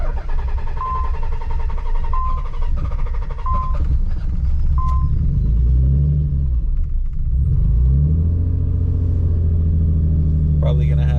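A 1991 Nissan 300ZX twin turbo cranks and catches, its engine rumbling loud and close and settling into a rough idle, while a person talks and chimes beep at intervals.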